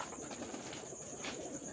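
Pigeons coo softly in a low, rolling murmur, joined by faint chirps and a hint of wing flutter, with steady background noise and no talk.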